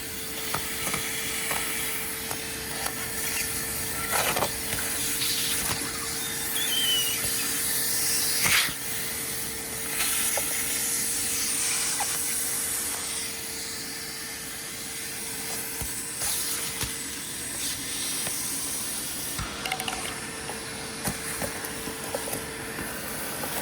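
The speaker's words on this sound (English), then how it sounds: "we're going to see how well the 3 horsepower vac can clean out the front grille of the Giulia" A Harbor Freight Bauer 3 hp shop vac sucks packed leaves from the front grille of an Alfa Romeo Giulia QV, giving a steady loud hiss and roar with crackling bursts as debris is pulled in.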